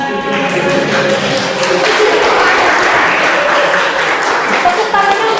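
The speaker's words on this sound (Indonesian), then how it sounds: "Tepuk tangannya untuk kita semua ya" A class bursting into applause, dense, steady clapping from many hands filling the room at close range with no pauses, as if a group is clapping together.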